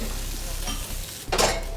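A lobster pan-roasts in a hot pan, a close, steady sizzle with a stirring or shifting sound and a brief louder burst of frying near the end.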